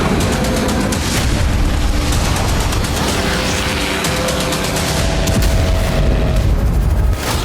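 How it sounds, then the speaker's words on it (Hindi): Loud, dense bursts of explosions and rapid gunfire-like blasts from a drone attack on Lipetsk airfield, a Russian air base, rolling on continuously for several seconds with sharp cracks over a deep rumble. "पहला धमाका लिपेत्स्क एयरफील्ड पर हुआ"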